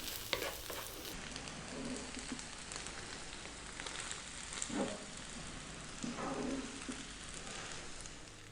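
Chicken fried rice with spring onions is stirred and folded in a hot pan, giving a steady soft sizzle with scraping stirs at intervals, moderately close and with no talking.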